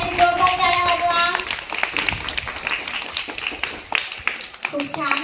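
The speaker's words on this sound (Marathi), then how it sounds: "सगळ्यांनी स्वतःसाठी जोरदार टाळ्या वाजवा" Students and teachers at a school Ambedkar Jayanti gathering clap together in a brisk, dense burst, mixed with voices and a short musical tone at the start.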